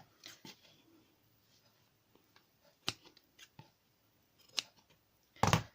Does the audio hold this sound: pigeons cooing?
no